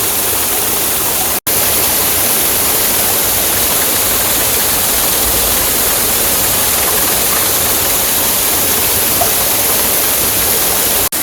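Water rushes hard through a homemade hydro power system, a dense, constant roar of full-force flow that holds steady and loud from start to finish with nothing else audible.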